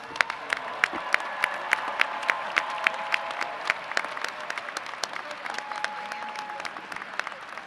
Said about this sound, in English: Let's give this group of graduates a big round of applause.